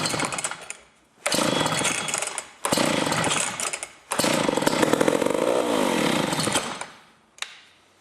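A McCulloch 350 chainsaw engine starts and runs loud and close, with several full-throttle bursts broken by short dips to idle before it cuts out, then one brief final blip.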